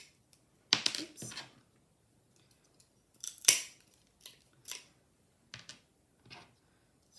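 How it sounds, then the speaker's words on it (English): A small hand nibbling tool cuts away tiny corners in a handful of short, sharp snips, spaced irregularly with quiet gaps between them, close and fairly soft. "using this tool, I then nibble away these tiny little corners."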